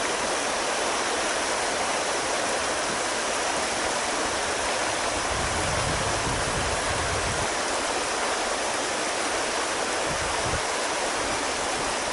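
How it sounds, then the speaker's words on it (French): Loud, unbroken broadband roar of a river rushing just below a dam, close and steady with no pauses, like heavy white-noise water flow. "j'aurais pu trouver mieux que la rivière après un barrage"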